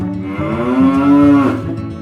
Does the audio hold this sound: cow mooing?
yes